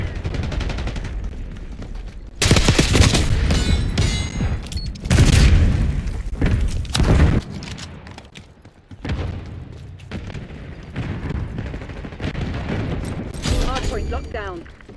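Call of Duty Black Ops 6 Archangel killstreak strike during a Hardpoint match: loud bursts of booming, rapid fire and explosions with heavy low rumble, several separate volleys back to back, with game voice callouts in between.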